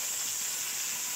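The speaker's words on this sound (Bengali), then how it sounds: "করলাগুলো একটু ভালো করে ভেজে নিই লাল লাল করে" Bitter gourds fry in a hot pan with a steady, close hiss of oil sizzling that holds an even level throughout, with no voices.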